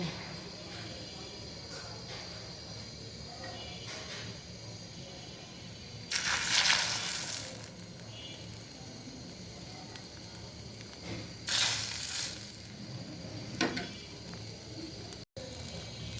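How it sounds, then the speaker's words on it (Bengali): Chitoi pitha batter poured into a small, very hot iron kadai gives two short bright sizzles, each about a second long, over a low room background while a voice talks. "একটা ছোট্ট লোহার কড়াই আমি খুব ভালো করে গরম করে নিয়েছি। এখন পিঠার গোলা দিয়ে দেব।"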